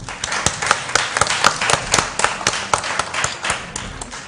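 At a school quiz competition, an audience claps steadily for several seconds, a dense run of close hand claps with no voices over it.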